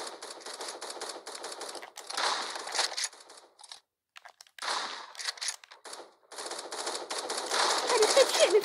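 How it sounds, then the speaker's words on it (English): Rapid automatic gunfire from the online shooter game 1v1.LOL rattles in dense bursts, broken by brief pauses near the middle and building again toward the end, fairly loud and close. "He just shot me through my wall."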